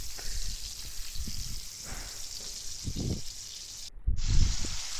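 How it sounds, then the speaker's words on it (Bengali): Onions and green chillies with spices being sautéed in a pan, giving a steady close sizzle with intermittent stirring scrapes and a louder burst of sizzling near the end. "প্রথমে আমি মশলা দিয়ে পেঁয়াজ মরিচ দিয়ে একটু কষিয়ে নেব সুন্দর করে"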